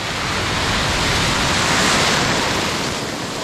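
Ocean surf breaking steadily behind a swimming session, a dense, continuous roar of broadband wash that swells slightly near the middle, with no voices.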